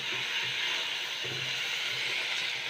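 Steady sizzling hiss of food frying or sautéing in a pan for breakfast, continuous and fairly close, with faint low thumps underneath and no talking.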